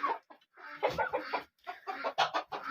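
Backyard flock of roosters and hens clucking in a steady run of short, close, overlapping calls with brief pauses, no talking.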